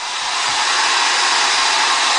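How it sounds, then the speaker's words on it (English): A blow dryer runs continuously at close range to dry urine-soaked clothes in a bathroom, a loud, steady, airy whoosh that fills the whole moment without any talking. "now Kim is drying it off with a blow dryer so I can go to the bar"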